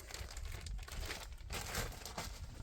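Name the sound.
handling 3M double-sided tape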